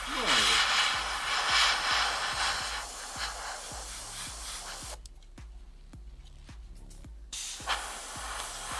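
Airbrush hissing as it sprays paint onto miniatures, a steady broadband spray from about 5 to 7 seconds, with rhythmic soft taps and clicks behind it and a brief voice near the end.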